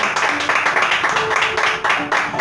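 A church congregation bursts into sustained, loud applause, many hands clapping in dense overlapping waves throughout.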